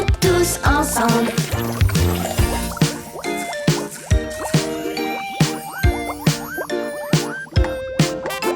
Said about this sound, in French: Faisons éclater toutes ces jolies bulles.